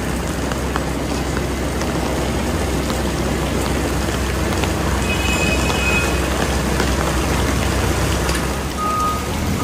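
Heavy rain pours steadily over a street during the demolition of a barangay hall that covered the sidewalk, a dense continuous wash of noise with faint tonal beeps above it.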